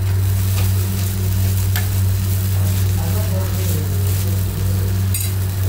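Ghee roast dosa sizzling and frying in a pan as it is flipped over, a steady loud crackle with a few soft scraping stirs, no talking.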